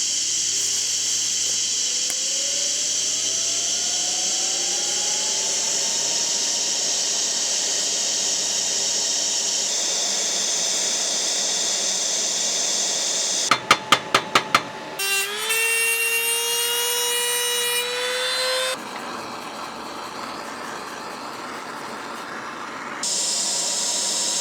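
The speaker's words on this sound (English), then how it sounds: "We'll lay some weld down and give it some light peening." A weld is laid on cracked cast iron and then lightly peened with a ball peen hammer. A steady arc hiss with a faint hum runs throughout, broken mid-way by a quick cluster of sharp metallic taps.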